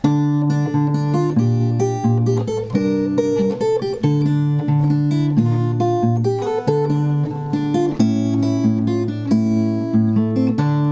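Finger-style guitar plays a line from the Pirates of the Caribbean theme, with loud, clear plucked notes in a steady rhythm and bass notes ringing under the melody, with no talking.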